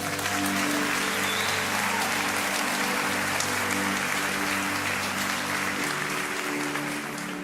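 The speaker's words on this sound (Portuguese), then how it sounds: "Eu acho que ela merecia uma salva de palmas, né?" An audience applauds steadily for several seconds, a full, even roar of clapping with a low hum beneath it that eases slightly at the end.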